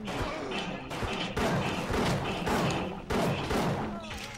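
Rapid bursts of gunfire from the underwater shooter game Bioshock crack in clustered volleys with loud impacts, sounding close and dense with brief gaps between.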